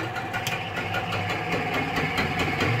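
A Vire engine fitted with a Bosch Dynastart runs at a steady, close idle, a continuous knocking, rumbling rhythm with no talking over it.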